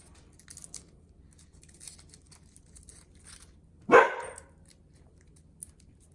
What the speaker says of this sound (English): I do have a dog, as you can tell.